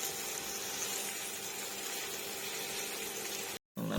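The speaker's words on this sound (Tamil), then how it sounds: "நல்லா சவுண்டு கேட்கும் பாருங்கள், சிக்கன் அந்த வேகிற சவுண்டு" Chicken breast frying in a pan over a low flame, giving a steady, dense sizzle that runs unbroken at an even level before cutting out briefly near the end.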